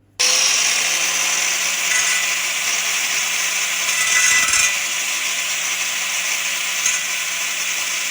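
An angle grinder with an ill-suited disc cuts along marked lines into a tough steel gas tank, a loud, steady, close-up whine holding almost unbroken for about eight seconds, with a slight dip and rise near the middle.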